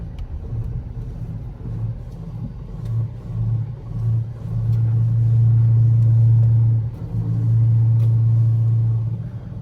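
Car driven around a back lot with a suspected worn strut mount, giving a low droning rumble that swells and holds during turning, with faint knocks over steady engine and road noise.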